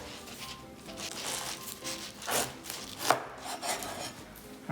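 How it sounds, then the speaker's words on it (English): A knife cutting into a fresh pineapple, close soft crunching and slicing strokes in a few uneven bursts, moderately quiet with no talk. "we're just gonna cut into the pineapple"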